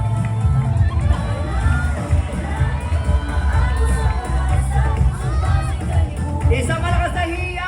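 A large crowd cheers and shouts at the Araw ng Pasig grand civic parade and street festival, a loud, continuous roar of voices with children's shouts mixed in. Someone talks over the noise.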